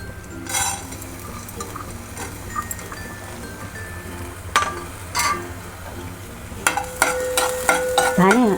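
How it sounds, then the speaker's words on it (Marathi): Coriander seeds are warmed in a pot with a scraping spoon, giving soft rustling stirs over a low background hum, with a few sharper knocks and clinks toward the end. "धने असेच आता हलके गरम करून घ्यायचे आहेत आपल्याला भाजायचे नाही आहेत"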